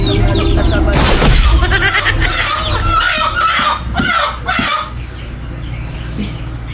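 Chickens cluck and squawk nearby amid a busy farmyard din, with some voices and sharp noises mixed in.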